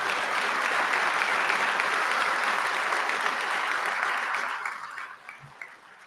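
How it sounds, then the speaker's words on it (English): Loud, dense applause from the audience at a recruit class badge ceremony, honoring a recruit who is absent sick; steady clapping for about four seconds that fades away toward the end. "So if we could all give him a round of applause."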